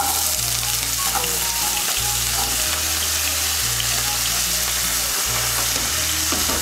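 Cut potatoes fry with ginger in hot oil, a constant close crackling sizzle with faint stirring scrapes and a low hum running underneath.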